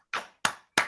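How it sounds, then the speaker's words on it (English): Applause from participants unmuted on a Zoom call for a small poetry press, heard as three short clipped bursts of clapping that cut in and out, close and moderately loud. "I was wondering if we could all unmute and have a round of applause for our Taos Press."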